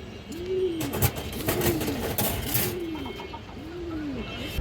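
Pigeons at a pigeon farm coo close by in a steady, repeating rhythm of four soft, rolling calls, with faint background clatter.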